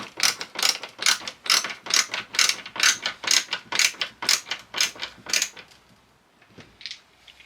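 A ratcheting driver clicks in quick, even bursts while small screws go into a scrap plywood chisel chest, roughly a dozen close, sharp ratchet strokes, then a pause and a couple of faint clicks.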